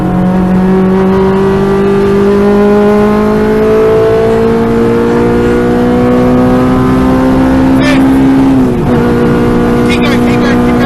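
A K-swapped Renault Clio race car engine at full throttle, its loud, steady howl climbing in pitch through the revs, with a quick gear change and a brief dip near the end before it pulls again.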